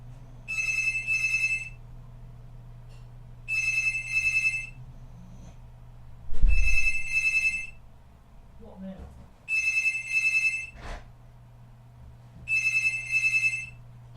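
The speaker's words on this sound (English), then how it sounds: "And the phone's ringing." A telephone bell rings in five regular double bursts spaced a few seconds apart, moderately near over a steady low hum, with a brief thump and faint background sounds between rings.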